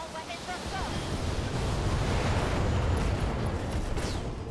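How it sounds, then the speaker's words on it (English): A broad, rumbling roar of an LRM ammo explosion inside a mech in the BattleTech video game swells and sustains for several seconds, dense and noisy with a low boom underneath. "LRM ammo explosion, pilot incapacitated!"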